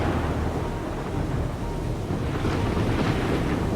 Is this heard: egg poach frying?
no